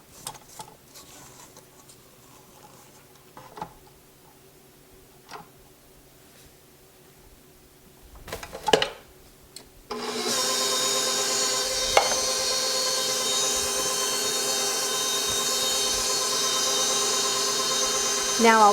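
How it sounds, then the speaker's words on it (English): An electric stand mixer beats strawberry mousse cake batter, a loud steady whirring hum that switches on partway through after quiet scraping and clinks of the bowl, then runs continuously to the end. "Now I'll turn my mixer off."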